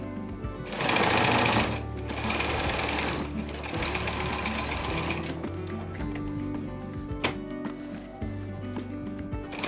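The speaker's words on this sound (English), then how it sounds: "Then top stitch the lining to the seam allowance," A sewing machine with a walking foot top-stitches a PVC fabric lining to a seam allowance, running in a steady continuous mechanical whir with a louder burst near the start, close and alone without talk.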